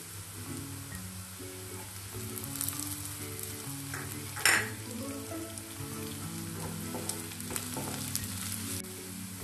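Onions sauté in a pan for onion rice, giving a steady, close oil sizzle with soft stirring clicks and one sharp scrape midway. No one speaks.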